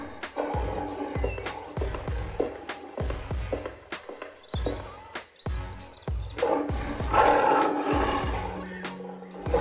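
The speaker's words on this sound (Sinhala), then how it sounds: "මේ සිංහයා උදව් ඉල්ලලා කෑ ගහනවා" A cartoon lion roars and cries out for help, with repeated loud growling bursts over rhythmic thumping and scattered busy effects, ending in a denser cluster of roaring.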